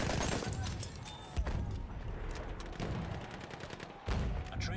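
Enemy artillery barrage in Battlefield 1, a continuous rumble of overlapping distant blasts and crackling gunfire, with a few heavier thumps standing out from the dense, noisy din.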